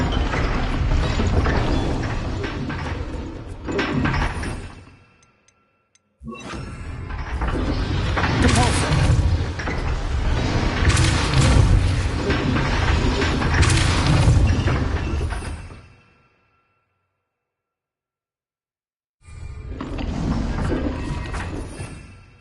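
A Confringo fire spell blast from the Hogwarts Legacy game: loud booming impacts and crackling clatter over dense game noise with speech, broken by a brief pause and a longer silence before a further burst.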